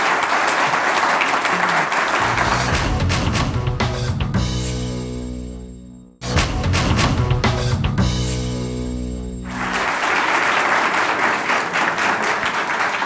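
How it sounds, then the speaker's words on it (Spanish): Sustained applause from an audience in a university hall for a political candidate at an evening campaign talk event, loud and dense, briefly dipping near the middle before swelling again, with music playing underneath. "Un aplauso para la candidata y ya regresamos."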